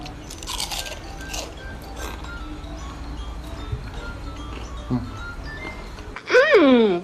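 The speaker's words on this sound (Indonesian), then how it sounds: "Ini kulit ayamnya, kalau dia bentuknya sih crunchy banget ya" Crunchy fried chicken skin bitten and chewed at a mukbang meal, a few close crisp crunches under steady background noise, with a brief voice near the end.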